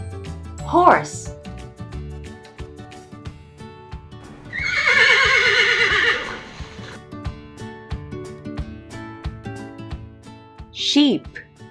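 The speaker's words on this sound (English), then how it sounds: "Horse." A horse on a farm gives a long, loud, quavering neigh, with shorter whinnies before and after it, heard close over background music.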